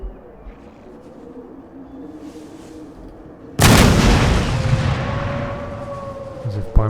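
Musket volleys and artillery fire in the Empire: Total War strategy game, starting with a sudden loud burst after quiet ambience and rumbling on with a tonal whine underneath.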